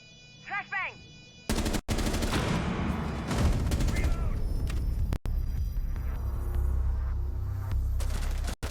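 A flashbang grenade goes off in a competitive tactical shooter match: a brief whistling chirp, then a sudden loud blast that turns into a sustained roar of gunfire and rumbling explosions.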